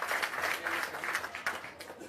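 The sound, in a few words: audience applauding at a meeting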